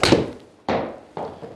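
Golf ball struck with a 7-iron, three separate solid thumping impacts spaced evenly apart, each fading quickly, loud and close with no voices.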